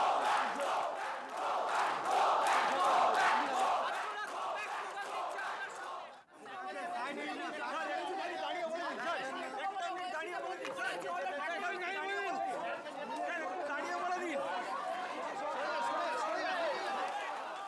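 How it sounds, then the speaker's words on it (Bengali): Crowd of protesters at a medical college raising loud, rhythmic go-back slogans against a local legislator, the chanting voices dense and sustained throughout apart from one brief dip. "স্বর্ণকমল সাহাকে গো ব্যাক স্লোগান আন্দোলনকারীদের"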